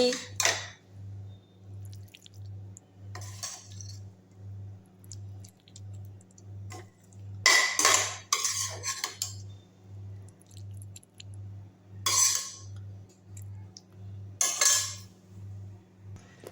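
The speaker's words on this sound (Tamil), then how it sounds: "இப்போ தட்டில் பரிமாறிடலாம்" Kollu keerai chicken thokku, Chettinad style, being served onto a plate with utensils, with several sharp clinks and scrapes at irregular intervals over a steady low hum.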